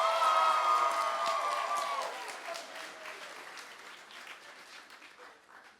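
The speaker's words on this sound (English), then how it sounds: "let's give them a loving round of applause for CCN Performing Arts" An audience gives CCN Performing Arts students a round of applause and cheers at a live TV show staged at Epic Studios, loud at first with a bright whistle-like tone, then thinning into softer clapping that fades away.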